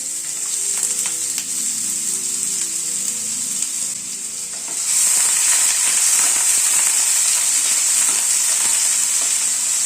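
Potatoes stir-fried in oil with nigella seeds and green chili in a bitter gourd recipe, a steady close sizzle with stirring scrapes that swells louder midway and holds, with no talking.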